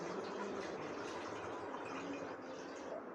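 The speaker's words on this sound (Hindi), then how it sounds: "और अब इसमें मैं पानी शामिल कर लेती हूँ।" About two glasses of water pour into a cooking pot of chicken tikka biryani, making a steady, soft, continuous splashing flow that eases off briefly near the end.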